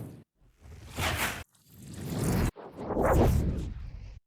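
Whoosh sound effects from the Impact Sounds 2 pack play one after another: three separate airy swishes of rising intensity, each cut off sharply, loud and heard alone.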